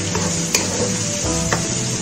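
Mutton with onion, tomato, garlic, ginger and spices frying in a pan, a steady sizzle broken by spoon scrapes and stirring clinks, close and fairly loud, no talking.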